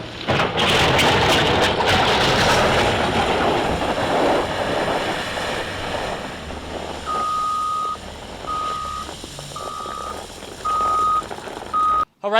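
A truck reverses with its backup alarm beeping in a steady repeating pattern, clear and fairly close, after loud rumbling and wind noise, at a trailer park in Medford being rebuilt after the Almeda Fire.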